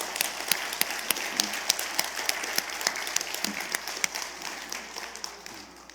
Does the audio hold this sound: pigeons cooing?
no